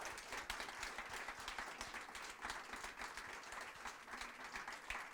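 A festival audience at a crime-fiction author meeting, Quais du Polar 2025, breaks into sustained applause: dense, steady clapping from a sizeable crowd that continues evenly throughout, with no talking over it.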